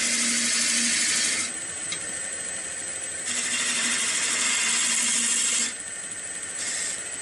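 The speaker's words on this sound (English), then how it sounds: "Now, I'm just using a half-inch spindle gouge." A wood lathe spins as a half-inch spindle gouge cuts a ball bat, a loud continuous hissing shear that swells and eases in alternating sections over a steady motor hum.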